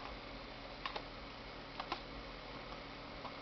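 Typing on a computer keyboard, a few faint, sparse keystroke clicks spaced about a second apart over a low steady background hiss.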